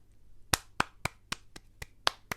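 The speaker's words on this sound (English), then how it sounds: "I don't know why I'm clapping." A lone person claps their hands about eight times at a loose, uneven rhythm, each clap sharp and close in an otherwise quiet room.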